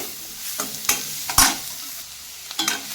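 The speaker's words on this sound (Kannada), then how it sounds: "ನಮಗೆ ಈರುಳ್ಳಿ ಕರಿಬೇವು ಸೊಪ್ಪು ಒಂದು ಕಲರ್ ಬರಬೇಕು, ಚೆನ್ನಾಗಿ ಫ್ರೈ ಆಗಬೇಕು" Chopped onion and curry leaves fry and sizzle in a hot pan while a spoon stirs them in several distinct scraping strokes, with a steady background crackle and no talk.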